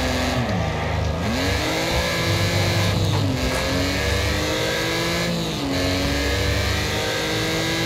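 Race cars roaring around Pinehills Raceway in a Wreckfest daily race, with loud, continuous engine whine rising and dipping through repeated gear shifts and throttle lifts, up close and alone without talk.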